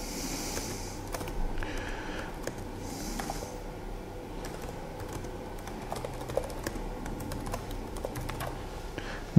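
Typing on a computer keyboard comes as quick, irregular bursts of close clicking keystrokes over a quiet background, with no talking.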